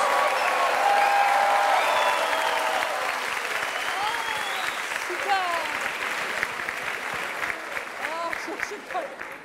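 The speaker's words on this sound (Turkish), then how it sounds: "Önce alkışlarla koromuzu bir görelim şöyle." A television show studio audience applauds a choir, with dense clapping, a few whistles and scattered cheering voices, loud at first and then slowly thinning and fading over nine seconds.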